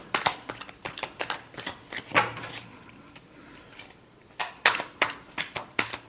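Tarot cards are shuffled in quick bursts of crisp riffling and slapping, close and fairly loud, with a brief pause in the middle before the rapid flicking resumes.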